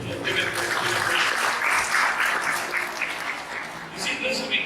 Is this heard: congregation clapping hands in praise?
yes